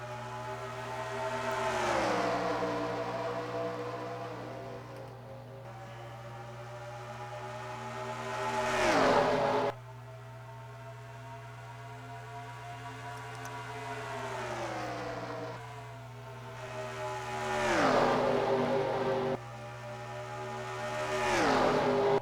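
Race cars in a NASCAR-style video game at Darlington, engines whining in repeated long rising and falling sweeps as cars pass, over a constant low hum, with no voices.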